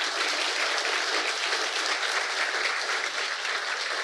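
An expo audience at a games academy's industry day applauds the staff, with steady, dense, loud clapping that holds evenly from start to finish and no voices over it.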